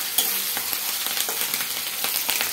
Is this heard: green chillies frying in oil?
yes